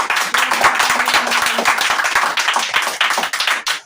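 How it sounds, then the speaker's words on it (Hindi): Children's group applauding at a school Children's Day quiz, a dense, steady burst of many hands clapping close by for nearly four seconds, with no talk over it. "जो सही किया उसके लिए भी ताली, जो गलत किया उसके लिए भी।"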